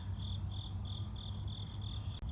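Steady, evenly spaced cricket chirps pulse on and on at a moderate distance over a low outdoor hum, with no voices.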